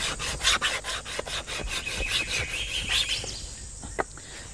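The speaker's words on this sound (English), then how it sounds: "we can make that into 2 little tinder bundles by scraping" Dry bamboo wood fibres, stripped of varnish, scraped with a blade into tinder: a steady run of close, rhythmic rasping strokes, about a dozen in quick succession, then a few slower scrapes near the end.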